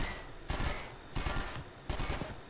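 Three quick bursts of automatic gunfire crackle in the PlayStation 2 game 24: The Game, evenly spaced and close, each fading before the next.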